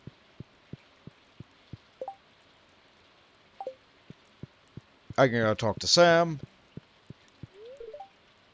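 Rain in Stardew Valley falls as evenly spaced drip-like ticks, soft and regular throughout. Short game chimes sound over it, and a voice speaks briefly in the middle.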